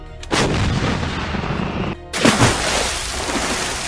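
Cannon fire effect from a Fisher-Price Great Adventures pirate ship toy: a loud booming blast that rumbles on and then cuts out, quickly followed by a second heavy burst with crackling debris.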